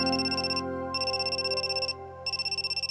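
A phone ringtone rings in the video game Amnesia Memories: a steady electronic tone that repeats in short pulsing bursts, clear and alone.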